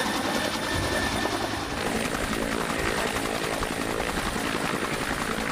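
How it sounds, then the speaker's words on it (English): A helicopter flying through the remote New Guinea mountains gives a loud, steady rotor roar with continuous chopping, close and without any talk. "helicopter is the main way of ferrying equipment in and out"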